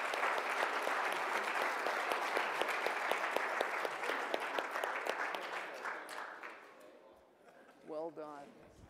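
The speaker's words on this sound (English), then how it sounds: "Let's give everybody a round of applause." Audience applause closing a panel debate on paying college athletes, a dense wash of many hands clapping that holds steady for several seconds, then thins and fades out as a voice begins speaking near the end.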